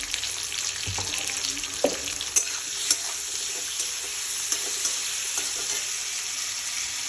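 Ingredients for a Raj Bari crab recipe fry in a pan with a steady sizzle, broken by a few clinks and scrapes as they are stirred; no one speaks.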